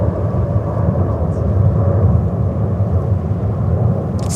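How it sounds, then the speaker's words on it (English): A Boeing 787-9 Dreamliner roars past at a winter airport in heavy wind, a steady, loud, broadband jet rumble that holds throughout without letting up. "787-9 Dreamliner"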